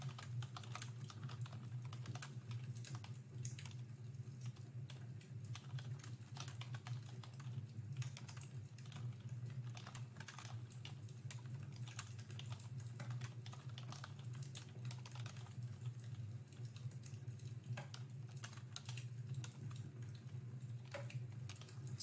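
Steady computer keyboard typing runs throughout, dense and continuous clicking at close range over a low background hum, with no one speaking.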